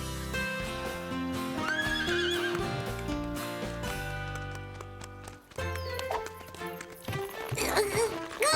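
Cartoon horses gallop with repeated clip-clop hoofbeats and loud whinnies over a busy animated-show music score.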